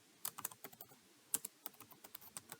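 Rapid typing on a computer keyboard, with quick irregular clicks and a few sharper, louder keystrokes, close up and with no talking.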